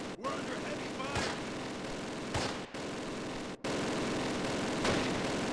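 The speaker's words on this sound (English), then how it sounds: "We're under heavy fire." Heavy gunfire in the Close Combat war strategy game comes as dense, continuous rattling volleys and bursts with a few sharp cracks and brief gaps, under a steady mix of game noise.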